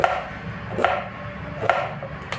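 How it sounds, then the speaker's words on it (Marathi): A knife chops bitter gourd (karela) finely on a board, three crisp evenly spaced cuts and a fainter fourth, close up with a quiet kitchen hum underneath and no talking. "मी इथे कारलं स्वच्छ धुवून आता मी बारीक कट करून घेते"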